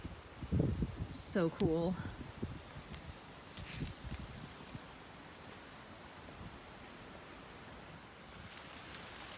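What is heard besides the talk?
wind blowing through garden leaves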